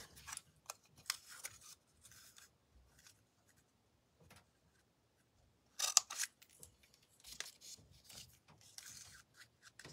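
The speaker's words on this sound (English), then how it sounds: "I'm going to take the Banner Punch and I'm going to trim this guy just a wee bit" A banner punch trims a paper piece for an Easter basket craft, giving a few short, dry crunching snips scattered through otherwise quiet surroundings, with one sharper cluster of cuts near the middle.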